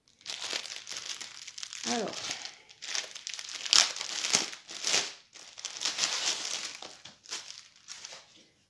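Paper packaging crinkles and rustles in repeated bursts as a cross stitch kit is unwrapped, close and fairly loud, with someone speaking briefly partway through.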